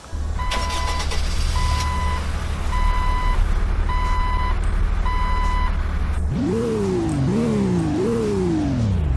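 A jeep engine in Roblox Greenville idles steadily while a repeating electronic beep sounds, then the engine revs up in three rising surges, loud and close.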